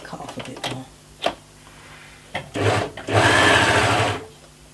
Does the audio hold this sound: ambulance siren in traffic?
no